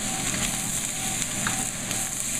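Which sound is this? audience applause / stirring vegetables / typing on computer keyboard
stirring vegetables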